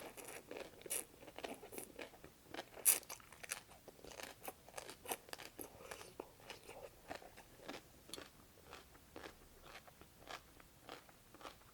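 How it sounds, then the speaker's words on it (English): Close, crisp crunching bites and chewing of cold cucumber soup, repeated in an irregular rhythm with soft wet mouth sounds between bites and no talking. "I'm actually really tired of chewing right now."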